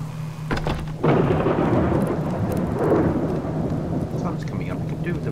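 A wilderness thunderstorm opens with a deep thunder rumble, then heavy rain pours steadily and loudly, close by, with no one speaking.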